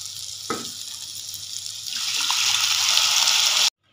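Bottle gourd lentils (lauki dal) frying in a pan, a steady hiss of sizzling that swells louder midway, with a brief clatter near the start, close by, then cut off abruptly.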